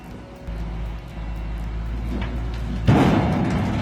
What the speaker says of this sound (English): It's truly impressive to watch the bulldozer drop a massive boulder into the truck.